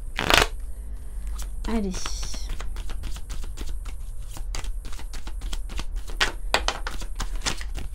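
Oracle cards, the light-themed deck, are shuffled close by with a quick riffle of papery flicks and soft taps, running steadily under a brief spoken word.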